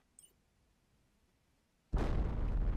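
Explosion in the video game Planet Crafter: after a near-silent stretch with a faint tick, a sudden loud blast breaks into a heavy, sustained roaring rumble that continues to the end.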